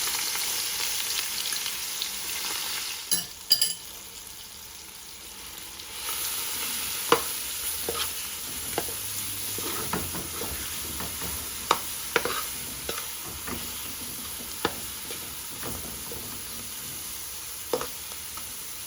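Chicken gizzards and tomato paste fry in hot oil in a pan, a steady close hiss with scattered sharp pops and crackles across the whole stretch, plus the occasional scrape of stirring.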